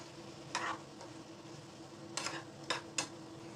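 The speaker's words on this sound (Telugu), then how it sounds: "రొయ్యలు వేస్తున్నానండి. చూడండి, బాగా వేగితే బాగుంటుంది" Prawns with ginger and tomato paste fry quietly in a pan, a faint steady sizzle broken by four short scraping stirs, close and soft.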